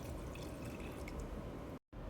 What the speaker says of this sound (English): Now I'm gonna add a can of water